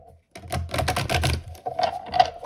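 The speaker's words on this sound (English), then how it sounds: "Okay, we'll do one last shuffle." A tarot deck is shuffled by hand in quick bursts of rapid riffling card clicks, close and fairly clear, with no talking over it.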